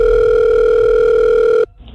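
A telephone tone sounds while a call is placed, one loud steady tone lasting over a second and a half before it cuts off abruptly into near silence.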